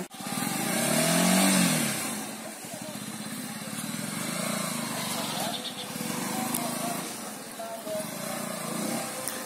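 A Bajaj Pulsar 150 motorcycle ridden slowly around a home yard, its engine puttering and rising and falling in moderate revs, with a voice talking over it in places.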